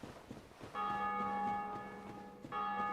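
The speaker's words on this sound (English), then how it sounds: "Somebody else just rang the bell," A bell tolls in the Dark Souls video game, two deep resonant strikes, each ringing out and slowly fading before the second sounds, fairly loud and alone.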